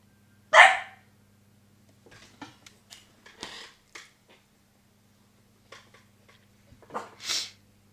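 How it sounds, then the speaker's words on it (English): A dog gives a sharp bark, followed by scattered small clicks and taps, then another muffled bark near the end. "That sound was my dog, Fluffy."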